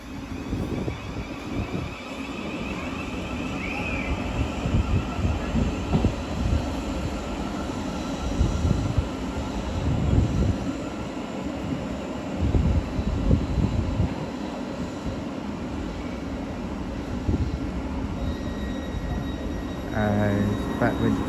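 A train pulls out of a London terminus on a service to St Albans City, a steady low rumble of rolling stock with uneven surges and clatter, station ambience and occasional distant voices around it.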